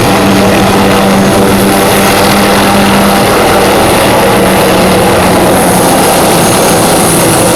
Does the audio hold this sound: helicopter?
yes